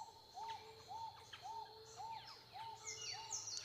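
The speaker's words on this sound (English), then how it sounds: "as we enter into our last segment of birdsong" Soft, distant birdsong repeats a short rising call about twice a second in a steady rhythm, with a few higher chirps near the end over quiet outdoor ambience.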